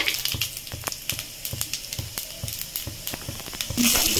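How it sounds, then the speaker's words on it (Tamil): Mustard and cumin seeds crackle and pop in hot oil with a steady patter of small spits, ending in a louder hiss as something is added. "அந்த பேனில் நான் வந்து கொஞ்சமாக கடுகு போட்டு சீரகம் நிறைய இருக்கிற மாதிரி பார்த்துப்பேன்"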